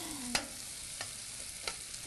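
Sliced onion strips sauteing in a pan for a Philippine dish, a soft steady sizzle with a few faint scraping stirs, quiet and close.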